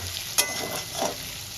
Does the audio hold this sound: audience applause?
no